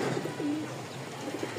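Pigeons, red and white pairs of newly arrived birds, coo softly in a few short, low warbling phrases against a steady background hiss.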